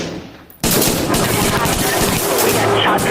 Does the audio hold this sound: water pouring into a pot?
no